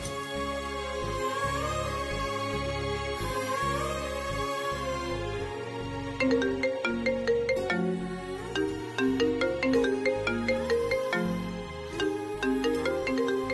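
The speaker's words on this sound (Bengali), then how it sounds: "এত ভোরবেলা আবার কি ফোন করলো?" A melodic phone ringtone rings early in the morning, playing a steady repeating tune of tones for several seconds, clear and continuous with no talk.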